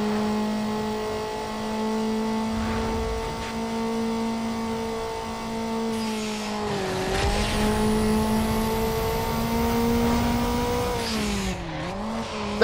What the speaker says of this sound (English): That was a lot of nitrous usage